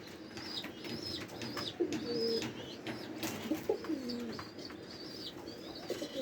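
Pigeons in a loft coo softly and repeatedly at close range, with a few brief chirps and one or two short bursts of wing flapping against steady background noise.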